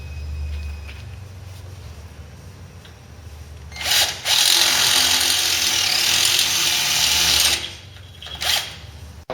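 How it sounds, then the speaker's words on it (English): A power drill bores holes through metal to bolt on new radiator drop mounts during a Venom S build, whirring loudly in two bursts of a few seconds each after a quiet workshop lull. "we're going to drill a couple of holes through to be able to bolt on the new mountings"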